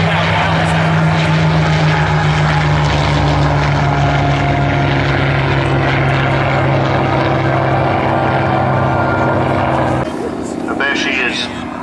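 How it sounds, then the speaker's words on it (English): A Hawker Hurricane 1 propeller fighter flies past at an airshow with a loud, sustained droning roar that shifts in pitch as it passes. A commentator talks over the engine noise. "just that sound of the short propellers going supersonic at their tips."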